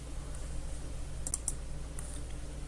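A few quick, sharp clicks from a computer mouse or keyboard, clustered near the middle over a quiet low hum, close and faint, with no voices.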